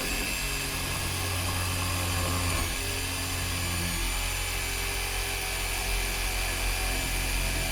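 A power drill drives a self-tapping screw into the ceiling supports of a Ford E350 van conversion, a steady loud whine that drops in pitch partway through and then runs on with a lower hum.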